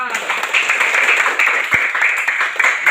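Students in a classroom clap together in a dense, steady burst of applause, loud and close, with a few voices mixed in.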